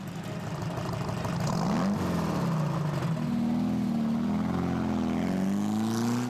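A classic car in a rally race pulls away, its engine revving up through rising gear pitches and then holding a steady, loud drone, close and alone.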